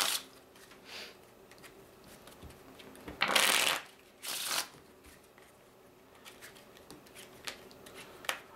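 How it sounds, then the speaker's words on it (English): A deck of playing cards shuffled by hand before a card trick, two loud riffling bursts mid-clip amid softer card handling and taps, quiet room setting. "I want to shuffle the deck up first just to make sure that it's fair"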